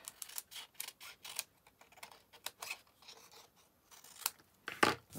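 Scissors cut out Rococo Rose cardstock for a handmade card. Short crisp snips come in uneven bursts close up, with paper rustling between them.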